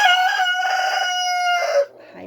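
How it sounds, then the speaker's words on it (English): Roosters crowing loudly nearby, two or three long, strained calls in quick succession with a brief cluck at the end. "My roosters are going nuts"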